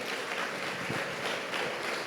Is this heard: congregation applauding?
yes